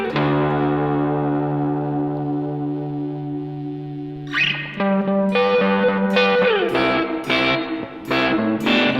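An electric guitar plays a long sustained chord, then a run of picked notes and chords, all washed in reverb with effects-pedal coloring and lingering tails. The guitar sounds alone, with no voice.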